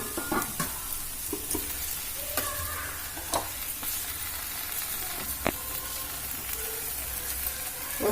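Okra fry sizzles in a pan with lemon juice added while a spoon stirs and scrapes in irregular knocks over a steady frying hiss, close and alone without talk.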